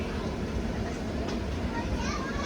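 Grand Trunk Express train rolling past a railway station, a continuous heavy rumble of wheels and carriages with broadband clatter, close and loud throughout.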